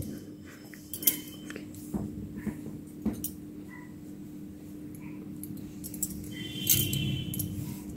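Size 11 metal knitting needles click and tap faintly and sparsely as stitches are cast on in Vardhman wool for a baby sweater, a quiet handwork sound with no talk.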